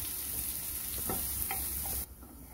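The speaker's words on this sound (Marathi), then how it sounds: "थोडं तेल टाकते आणि कांदा भाजून घ्यायचा।" Onion frying in a little oil in a pan, a continuous hissing sizzle with a few faint stirring taps, heard close and steady until the sound drops off abruptly near the end.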